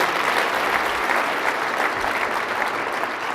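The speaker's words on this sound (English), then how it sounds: "Give them a big round of applause for all they do." Audience applause for city council members at a downtown Boise state-of-downtown event, a steady dense clapping from a large crowd that holds evenly throughout without a break.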